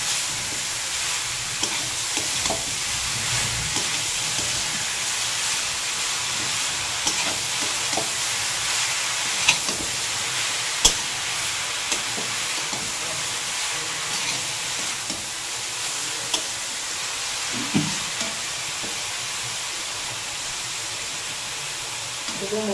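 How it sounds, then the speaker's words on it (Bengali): A Bengali vegetable chop mixture sizzling and frying in a pan while being stirred, a steady loud hiss with scattered scraping clicks of the spoon throughout. "একসঙ্গে মিশিয়ে নেব ভালো করে।"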